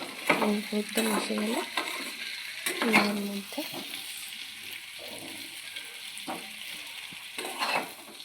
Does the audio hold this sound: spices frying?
yes